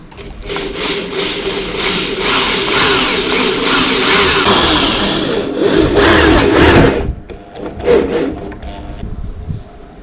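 A power drill whirs loudly and steadily, grinding as it drives self-drilling screws while assembling a solar water pump control cabinet, then winds down near the end with a few shorter bursts.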